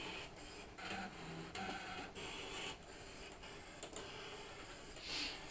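A Brother ScanNCut DX cutting machine running, a steady mechanical whir with rhythmic ticks and small motor pulses, close and fairly quiet, with no talk.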